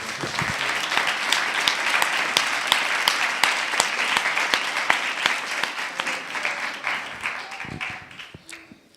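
A church congregation applauds during a Christmas sermon, with dense clapping and distinct sharp claps that thin out and fade toward the end.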